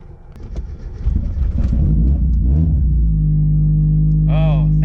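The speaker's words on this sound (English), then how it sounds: "Let's start the car." A Honda Integra engine turns over and catches, then settles into a loud, steady rumbling idle, with voices and handling noise early on and a brief squeal near the end.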